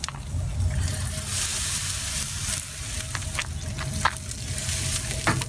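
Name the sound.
spritzing liquid onto a smoking ham on a Pit Boss Kamado grill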